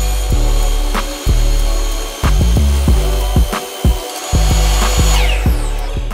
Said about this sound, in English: And let's just hope it cuts right. I do have a metal cutting Diablo blade, so that shouldn't be an issue